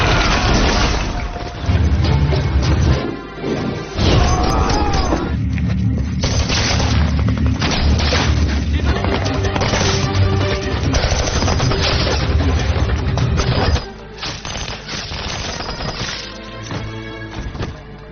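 Heavy battle gunfire and bazooka explosions boom continuously at close range for the whole stretch, with rapid shots and blasts layered densely and a brief lull before the loud barrage resumes and continues to the end.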